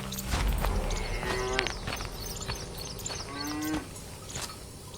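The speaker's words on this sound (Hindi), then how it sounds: "गाय जोर जोर से आवाज कर रही होती है।" A cow moos loudly and repeatedly in an animated farm story, several drawn-out calls near and clear with no talking.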